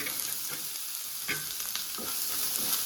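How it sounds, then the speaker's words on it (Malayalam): Onion, carrot and beans fry in a pan with a steady soft sizzle while being stirred, bringing occasional scraping strokes close up. No voices. "നന്നായിട്ടൊന്ന് ഇളക്കി കൊടുക്കാം"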